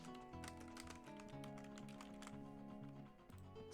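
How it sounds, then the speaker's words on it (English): Rapid keystrokes on a computer keyboard, a quick run of light clicking taps played under steady music. "Sadie furiously typing to find our Twitch names"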